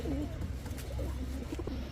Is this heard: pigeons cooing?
yes